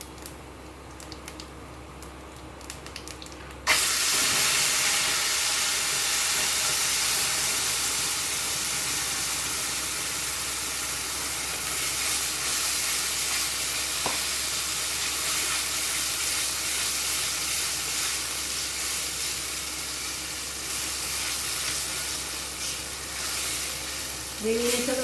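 Gravy poured into hot oil tempered with cumin seeds and dried red chillies for Jain chhole, setting off a sudden, loud, steady sizzle and hiss that keeps going for over twenty seconds.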